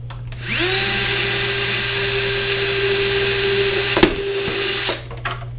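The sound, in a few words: electric drill drilling a hole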